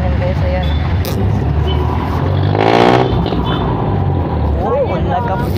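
A jeepney drives along with a steady engine drone and road rumble, a passing vehicle swelling midway, while people talk over the noise.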